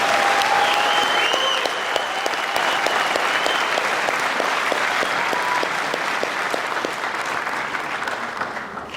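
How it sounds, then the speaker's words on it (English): A large audience at a university chancellor's inauguration gives a long, warm round of applause, dense clapping that holds steady for several seconds before slowly thinning out. "I think they deserve another warm round of an applause."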